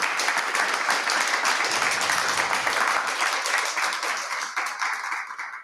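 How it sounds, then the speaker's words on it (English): A room full of people claps steadily for panelists at a healthcare policy dialogue, the dense applause holding strong before tapering off and growing sparser toward the end. "A round of applause for all our panelists."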